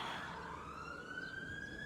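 An ambulance siren wailing in the background, a faint rising tone sweeping steadily, distant and quiet under a low room hum, no talking.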